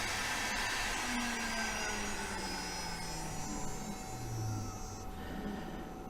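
An 800 watt air-cooled, VFD-controlled spindle on a Sainsmart 4040 Pro CNC runs with a steady whirring hum and faint whine, its pitch shifting slightly as it spins, close and continuous with no talk.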